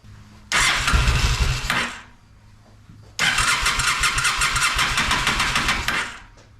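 Cranking attempts on an old engine that sat unused for almost a decade: two loud, close bursts of starter churning, the first about a second and a half long, the second near three seconds, with no voices.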